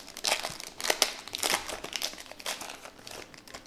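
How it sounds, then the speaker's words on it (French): An Evangelion trading card booster pack is torn open by hand, its wrapper crinkling and crackling in dense, close bursts for several seconds without speech. "notre dernier booster, on va l'ouvrir à l'ancienne."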